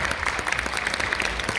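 Audience applause at a dance concert, dense continuous clapping from a crowd that stays steady and fairly loud throughout, with no voices on top.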